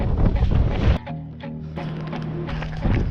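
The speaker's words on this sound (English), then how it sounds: "It's so windy." Strong wind buffets the microphone in loud rumbling gusts during the Auckland Marathon in cold rain, easing briefly before roaring back.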